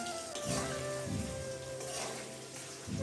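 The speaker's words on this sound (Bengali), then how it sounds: "চিকেনটা আমার এখানে কিছুটা ভাজা হয়েছে একটু লাল লাল করে ভেজে নেবো" A steady sizzle of chicken frying in a hot pan, with soft crackles and pops throughout, close and moderately loud.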